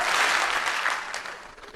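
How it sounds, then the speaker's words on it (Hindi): Audience members clap together in a short, bright burst of applause that quickly fades out. "जब भी मैं हेलो बोलूंगा एक बार ताली बजाएंगे"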